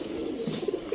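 A Rajshahi Giribaz pigeon gives soft, low cooing over a busy outdoor background, with brief murmuring calls close by.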